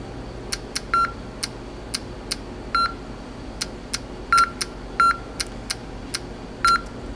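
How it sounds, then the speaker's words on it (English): Sharp, evenly spaced progress-indicator clicks with occasional short electronic beeps counting authentication entries, close and clear over a quiet hum. "the clicks here are just progress indicators, and the beeps are the counts."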